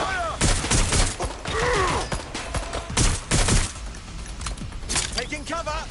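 Gunfire in a PS4 video game arrives as dense, loud bursts of shots under a shouting game voice, with mechanical clatter between volleys.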